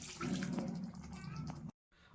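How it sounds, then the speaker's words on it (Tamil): Half a tumbler of water poured into a pan of capsicum chicken, a steady close splashing pour that cuts off abruptly near the end. "இப்போ 1/2 டம்ளர் அளவு தண்ணி ஆட் பண்ணிக்கலாம்."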